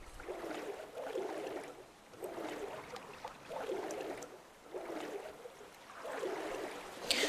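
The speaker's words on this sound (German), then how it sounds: "ich muss jetzt erstmal einen kleinen Ozean durchschwimmen" Swimming through ocean water in the Creativerse video game gives a steady, rhythmic series of soft splashing strokes, each lasting about a second, close and even throughout, with no one talking.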